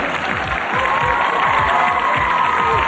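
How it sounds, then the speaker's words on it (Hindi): A large crowd at an event with cricketers claps and cheers loudly and continuously, dense applause with shouts and whistle-like tones mixed in. "बूम बूम अफरीदी जी, जोरदार तालियां इनके लिए।"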